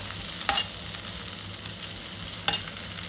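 Chili powder sautés in a pan for an eggplant and banana stir-fry: a soft, constant hiss of frying, broken by two quick stirring clicks about two seconds apart.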